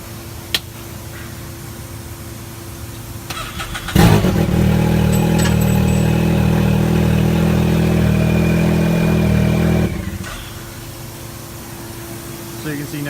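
A Can-Am Maverick X3 side-by-side engine cranks and fires at about four seconds after its ECU flash, then holds a loud, steady idle for roughly six seconds before shutting off, with quieter background before and after.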